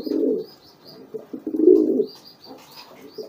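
Pigeons coo close by in low, throaty, repeated calls, with faint higher chirps in the background.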